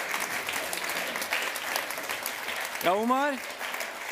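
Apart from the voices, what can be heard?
audience applause at a launch party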